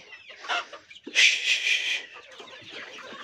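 Sonali chickens at an Eid market give a few close clucks, then a louder, longer squawk, followed by softer scattered clucking.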